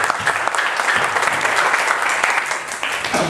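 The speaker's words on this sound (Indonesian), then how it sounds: "Tepuk tangan dulu buat Anda semua dong." A seminar audience on the last day of a two-day session breaks into brief, lively applause, dense clapping close by that holds steady without any talking.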